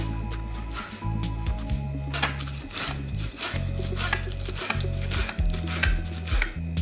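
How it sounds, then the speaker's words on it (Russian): A knife finely chops green onion stalks rapidly and evenly against a cutting board, crisp repeated taps close by, with a low humming tone underneath. "И перья зеленого лука, его стебельки меленько нарезаем."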